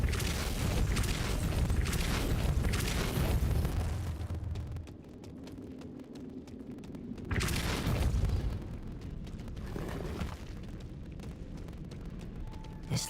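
A Depulso spell cast in Hogwarts Legacy opens with loud, rumbling booms and bursts, then fades to quieter game ambience, with another surge of whooshing impact partway through.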